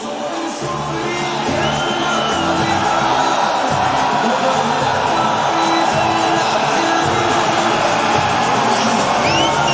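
A loud crowd of supporters at a kickboxing fight roaring and whooping for a fighter's entrance, a dense continuous wall of cheering and shouts with music-like tones underneath, sustained throughout.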